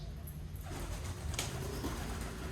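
Pigeons in a rooftop coop setup, with a young bird and a female newly caged inside netting, give soft low cooing that murmurs steadily close by over a constant background hum.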